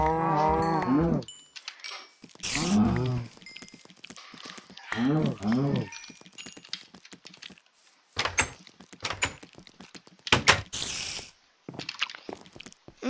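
Cows moo repeatedly in Minecraft on a Nation Glory server, several loud close drawn-out calls rising and falling over a stretch of scattered clicks and game sounds, with people talking in between.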